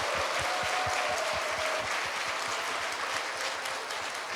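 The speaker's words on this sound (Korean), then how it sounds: "제가 그렇게 한다고 하지도 않았는데 왜 박수를 치십니까?" A church congregation breaks into sustained applause during a sermon, a dense, steady clapping from many hands that fills the room at even loudness and fades only slightly at the end, with no talking over it.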